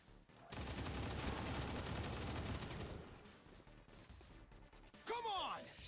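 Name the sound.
gunfire in a video game (XCOM 2 Long War of the Chosen)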